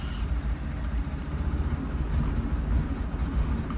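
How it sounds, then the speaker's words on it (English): A 1970 Porsche 911 T engine runs close by with a deep, uneven rumble that swells slightly under light throttle blips, heard alone without talk. "Let me rev it up a little bit."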